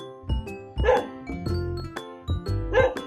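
A dog barks repeatedly at close range, sharp loud woofs coming in an uneven rhythm, one after another, with no talking.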